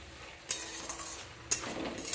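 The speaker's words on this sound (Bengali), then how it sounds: "এবার দেখো সবটা মশলাকে ধীরে ধীরে সুন্দরভাবে কষিয়ে নিতে হবে" Ginger, onion, garlic and spices being sautéed in a pan, with a couple of sharp metal clinks of the spoon against the pan over a soft, close sizzle.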